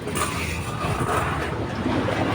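A Mantra Sharp engine running at 2200 RPM, a steady droning mechanical hum that holds at a constant level throughout with a windy, broadband wash over it and no voices.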